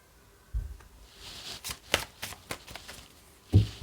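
A tarot deck is shuffled and cards are drawn, with crisp riffles and sharp card snaps in an irregular run of close, distinct flicks, ending with a heavier thump as cards are set down.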